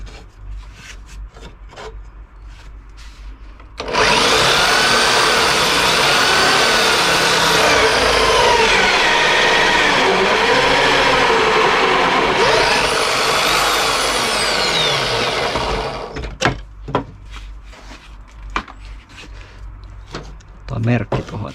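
A power drill runs steadily for about twelve seconds, drilling holes in wood with a loud continuous whirring grind, with scattered knocks and handling noises before and after.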